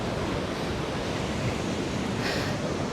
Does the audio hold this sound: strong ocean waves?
yes